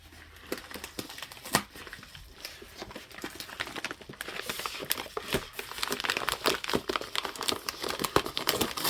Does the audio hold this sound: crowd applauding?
no